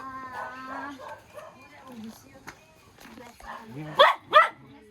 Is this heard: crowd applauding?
no